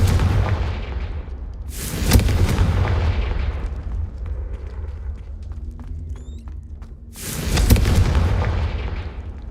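Two heavy booming blasts of the Confringo fire spell in Hogwarts Legacy, a few seconds apart, each loud and broad, with quieter rumbling game ambience between them.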